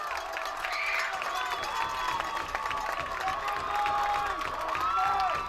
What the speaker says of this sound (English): listen to the Grizzly Nation cheer